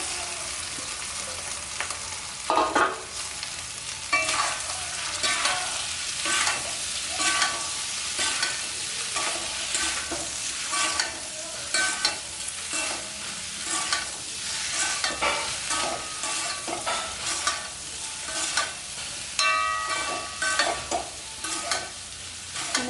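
Potato pieces coated in chili powder fry in oil for a Chettinad-style potato fry, with a continuous soft sizzle and repeated spatula scrapes and taps against the pan, close and steady, without any voice.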